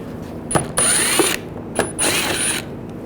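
A ratchet fitted with a T20 socket backs out shield screws on a Volkswagen Tiguan, giving two close bursts of rapid clicking with short pauses between them.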